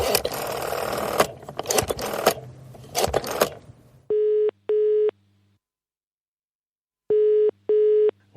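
Two paired bursts of a British telephone ringing tone, a double ring repeated twice with a pause between, following a stretch of muffled, noisy rustling at the start.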